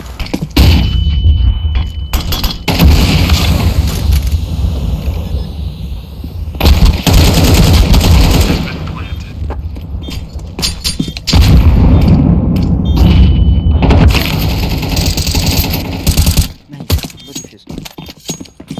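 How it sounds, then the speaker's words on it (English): A Counter-Strike match in a Vitality vs FaZe final has loud bursts of gunfire and a flashbang blast in dense repeated volleys. Short quiet gaps break the barrages, and game voice lines sound faintly underneath. "Deploying flashbang."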